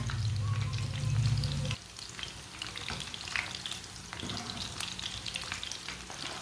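Chicken seekh kababs sizzle and fry in a pan, a loud steady crackle with a heavier burst of frying noise at first, then continuous sputtering and popping at a lower level.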